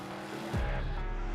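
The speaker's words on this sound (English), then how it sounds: "As I let go of the button and the car takes off" A drag racing car launches hard off the line at a drag strip, a sudden loud surge of engine roar that builds about halfway through and sustains to the end.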